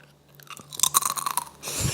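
Crisp, close crunching as a crunchy, cheesy snack is bitten and chewed, building over a couple of seconds into dense, rapid crackling with no speech.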